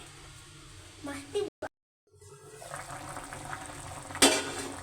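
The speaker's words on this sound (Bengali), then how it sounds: "আমার ঝোলটা ভালোভাবে ফুটে গেছে" A thin fish curry broth with potatoes, made for stinging catfish, bubbles at a boil in a pot. The faint simmer hisses steadily, with a brief dropout and a louder clink near the end.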